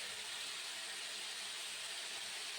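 Pumpkin and potato pieces frying in a pan for a Bengali kumro alur chhokka, a steady, loud, close sizzle and hiss with no talk.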